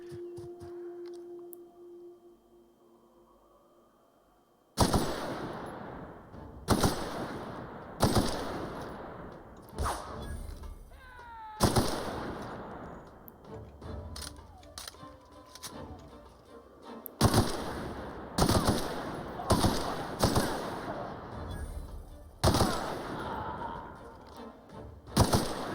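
Rifle fire in The Outer Worlds, a sci-fi shooter game: after a few quiet seconds, loud bursts of shots crack out in clustered volleys with short gaps between them, close and punchy, with no talking over them.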